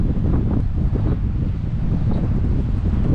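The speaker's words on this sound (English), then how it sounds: "Yeah, it's pretty windy" Strong wind blasts across a microphone on the Bristol Channel coast near Barry, a continuous, loud, rough buffeting roar with no pauses and no voices.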